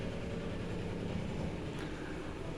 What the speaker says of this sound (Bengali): এই হচ্ছে এখানকার ট্রেন হলদিয়ায়